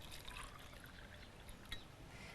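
Tap water poured onto a wet tea bag in a cup, a faint steady trickle and splash that runs the whole time with no talking.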